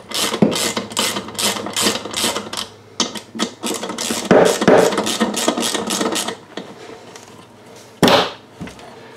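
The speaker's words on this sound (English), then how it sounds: "So now I'll just tighten up those bolts." Metal bolts being tightened on the transmission of a 1983 BMW R100RS motorcycle, a rapid series of sharp ratcheting clicks in bursts, close and fairly loud, with pauses between runs and no talking.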